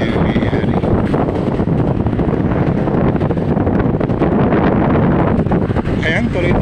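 Strong habagat monsoon wind buffets the microphone at a seawall with rough waves in Bulan, Sorsogon, a loud continuous roar and rumble throughout with no break.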